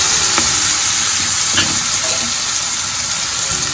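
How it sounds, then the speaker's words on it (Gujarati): Chopped onions and asafoetida sizzling in hot oil for a green onion curry, a loud, continuous hissing fry with a few faint clinks of stirring, close and unbroken. "આપણું તેલ જે છે તે ગરમ થઈ ગયું છે તો એક ટેબલ સ્પૂન જેટલી હિંગ એડ કરીશું અને જે આપણે કાંદા કટિંગ કરેલા છે તે એડ કરીશું"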